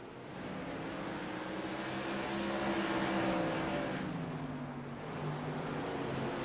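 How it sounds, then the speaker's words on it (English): Tour modified race cars roar around the track in a racing video game, several engines droning together with sustained, shifting pitch that swells loudly midway and eases slightly, with no voices over the steady motor noise. "coming up on the lap car of Chuck Phelps"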